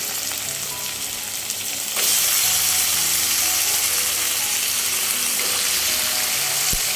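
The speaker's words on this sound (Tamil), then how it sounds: "அந்த மஞ்சள் பொடிலாம் போட்டு கழுவுன சிக்கனை இப்போ நம்ம போட்டுக்கலாம்" Washed chicken coated in turmeric drops into a hot pan of fried garlic and oil. A gentle sizzle suddenly swells into a loud, dense, continuous frying hiss that holds steady up close, with no talking.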